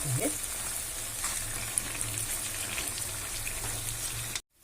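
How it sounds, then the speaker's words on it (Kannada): Ground mango chutney sizzling steadily as it fries in hot oil, a continuous close hiss with faint stirring, cutting off abruptly at the end. "ಇಲ್ಲಿ ಎಣ್ಣೆ ಕಾದದ ಈ ಚಟ್ನಿ ಹಾಕೊಳ್ಕತ್ತೀನಿ"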